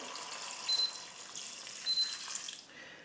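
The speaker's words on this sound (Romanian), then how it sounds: "Completăm cu apă." Water poured into a multicooker pot holding beans, a soft continuous splashing and trickling stream that is fairly quiet and steady, ending abruptly near the end, with no talk.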